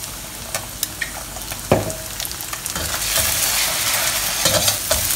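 Beaten eggs and onions hiss and sizzle in hot oil in a cast iron wok over high heat. A utensil scrapes and clinks against the metal now and then, and the frying grows louder and steadier toward the end.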